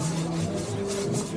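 An elephant is scrubbed hard during its bath at Sakrebyle elephant camp in Shimoga: a steady, coarse rubbing and rasping that continues without a break, close and fairly loud.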